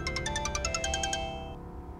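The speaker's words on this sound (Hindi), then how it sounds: "ये देखो आ गया महारानी का फोन पंचायत करने।" A mobile phone rings with an incoming call, giving a quick run of bright, repeating electronic tones for about a second and a half before cutting off over a low background hum.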